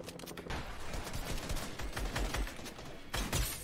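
Rapid gunfire crackles continuously in dense bursts, loud and close, like automatic weapons firing in Fortnite.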